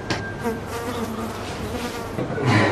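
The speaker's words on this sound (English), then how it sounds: "Mosquitoes" Insects buzz in a steady, continuous drone that stays fairly loud throughout, with no voices over it.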